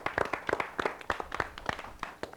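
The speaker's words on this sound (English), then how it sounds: "Give yourselves a big round of applause." An audience gives a short burst of applause for a team at a quiz-style event, with scattered, moderately quiet claps rising and falling for a couple of seconds.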